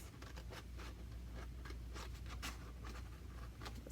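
Scissors snipping through paper along a drawn sad face for a lunar eclipse craft, a steady run of quick, close, quiet cuts with a faint background hum.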